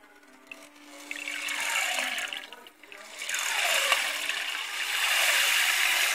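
Water pours steadily into a cooking pot, a rushing splash that swells, dips briefly and returns louder, continuing without talk.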